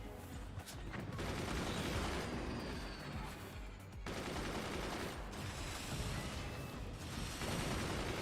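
Rapid sniper and buzzsaw weapon fire in the physics strategy game Forts, a dense, continuous crackling barrage of gunfire and impacts with brief gaps, steady and moderately loud throughout.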